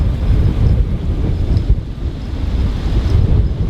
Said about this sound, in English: It is so windy and cold right now.